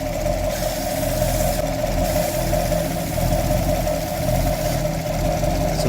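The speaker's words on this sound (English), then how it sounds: "See how the engine RPM is changing?" A 2017 Chevy Camaro engine idling with a lean condition and vacuum leak: a steady close rumble with a continuous hiss over it, the idle speed rising and dipping slightly.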